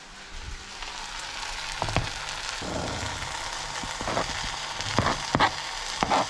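Tomatoes, ginger and garlic sizzle in a frying pan, a steady crackling hiss with a few sharper pops and stirring clatters, close and moderately loud with no talk.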